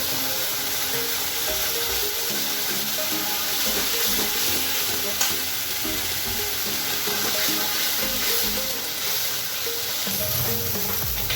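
Spice masala with sauce frying in oil, a continuous dense sizzle at moderate loudness with faint stirring underneath.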